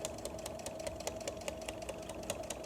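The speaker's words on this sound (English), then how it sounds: "I'm going to stitch this full curve with a ½ inch seam allowance." A sewing machine stitches a curved seam on a zippered tote in a rapid, even run of mechanical ticks at moderate volume, with no talk over it.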